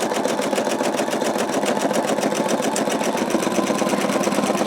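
An embroidery machine runs a placement stitch on an in-the-hoop wallet project, its needle hammering in a fast, even, unbroken rhythm close up with no talk.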